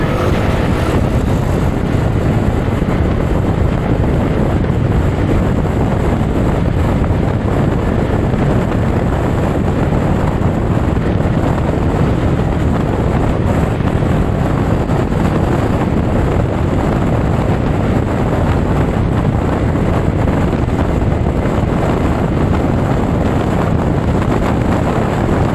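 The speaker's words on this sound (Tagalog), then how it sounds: "isa nga pong clip na nakahit nga po ng top speed, kung gaano nga ba kabilis ang motor na ito" Loud, constant wind roar buffets the microphone as an ADV scooter rides at top speed, a dense broadband rush with no breaks or voices.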